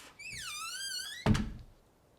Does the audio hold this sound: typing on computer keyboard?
no